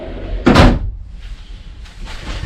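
A large storage drawer under the bed of a 2020 Rockwood Signature Ultra Lite 8329SB travel trailer slides and thumps shut, one loud close knock followed by softer sliding rumbles.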